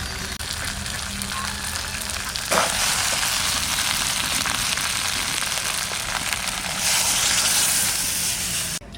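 Chicken curry braising in a pan sizzles with a steady, bright hiss that swells louder partway through, continuous and close with no talking.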